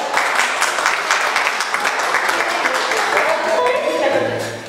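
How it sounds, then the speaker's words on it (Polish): An audience applauds loudly and continuously at a surprise 60th birthday party, then the clapping fades out as a low tone begins to sound. "Duże brawa!"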